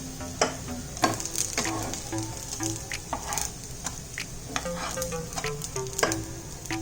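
Rice tikki cutlets frying in oil, a close bubbling sizzle with frequent clinks and scrapes of a spatula against the pan, no voices.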